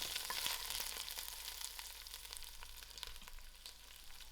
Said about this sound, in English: Give this a nice mix and allow this to fry out.